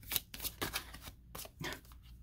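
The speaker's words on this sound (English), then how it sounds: "I shuffled two decks here." Two decks of tarot cards shuffled up close in quick riffling bursts, several crisp flutters separated by short pauses, no talking.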